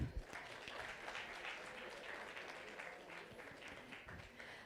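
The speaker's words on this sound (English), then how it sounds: "Please give them a clap." Audience at a launch event claps in a soft, steady patter that sounds somewhat distant, starting with a brief louder burst and then holding a fairly even level.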